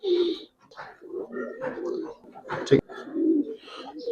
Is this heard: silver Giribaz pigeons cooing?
yes